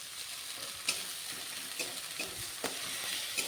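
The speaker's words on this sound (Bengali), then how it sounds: "পেঁয়াজ আর আদা কাঁচা গন্ধটা যাওয়া পর্যন্ত আমি ভেজে নেব" Onion and ginger paste fries quietly in a pan, a soft steady sizzle broken by a few light knocks and scrapes from stirring.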